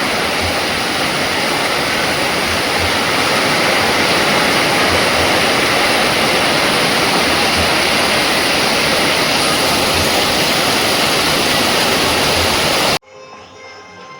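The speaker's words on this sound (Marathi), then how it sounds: "तर माझ्या अंगणामधून पाऊस तुम्ही बघा कसा पडतो तो" Heavy rain pours steadily into a farmhouse courtyard in a Konkan village, a loud unbroken hiss and patter like rushing water that cuts off abruptly near the end, with no talking.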